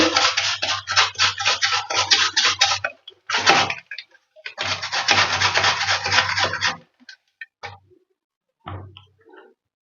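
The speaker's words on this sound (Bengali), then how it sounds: "এইভাবে একটু ঘষে নিচ্ছে" Potato and pumpkin are grated for fritters in several bursts of scratchy rasping strokes that run in rhythmic runs, with a long stretch at the start, a short one, another long one, then scattered light scrapes toward the end.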